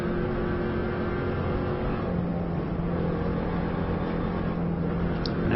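A Subaru runs at full throttle on an Isle of Man road lap, heard from inside as a steady, loud, droning engine roar with no letup and no talk.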